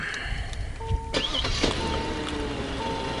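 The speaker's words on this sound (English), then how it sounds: "I'm going to go ahead and start the car up" A 2014 Kia K900 car engine cranks and catches, then settles into a steady low idle hum, close by with no talking.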